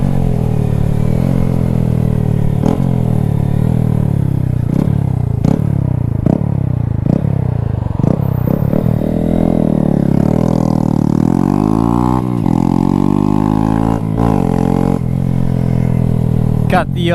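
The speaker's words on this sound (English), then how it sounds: "got the Zoom exhaust, and it is very loud" A loud aftermarket exhaust on a Grom motorcycle barks and roars as the bike accelerates through repeated gear shifts, pitch climbing then dropping, with a voice talking over it.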